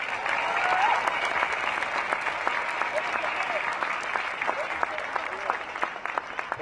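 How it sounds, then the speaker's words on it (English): Sustained crowd applause fills an outdoor protest rally in Denver, dense clapping and cheering holding steady at full strength throughout, with faint voices mixed underneath. "Give them a hand clap."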